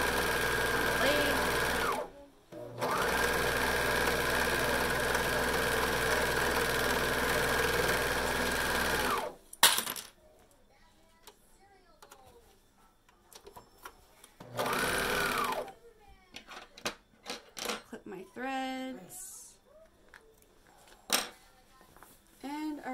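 A sewing machine stitches a Rockapalazzo pattern garment, running in a long, steady whirring stretch before stopping, then returning in shorter bursts separated by quiet pauses and handling noises.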